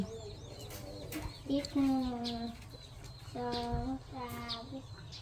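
In an early morning outdoor setting, chickens give a few drawn-out clucking calls in two bursts over a low, steady background hum.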